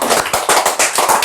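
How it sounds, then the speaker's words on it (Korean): An audience applauds at a talk celebrating a senior choir's grand prize at a national Golden Age choir competition, with dense, close clapping across the whole 1.3-second stretch. "박수 한번 쳐주세요."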